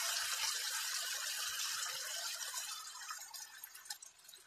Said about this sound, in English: you can add a little bit of water.